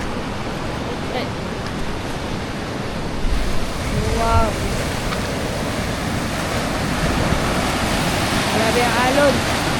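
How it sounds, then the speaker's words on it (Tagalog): Strong ocean waves surge and crash onto the beach at Bacungan, a steady loud roar of surf with wind buffeting the microphone, while voices briefly exclaim over it. "Lakas ng alon ngayon."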